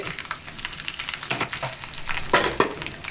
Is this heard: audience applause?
no